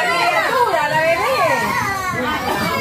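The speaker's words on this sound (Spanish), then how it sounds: "Tos y llanto." Children cry and wail on a crowded bus after pepper spray was released, voices overlapping loudly with agitated chatter; coughing is hard to pick out.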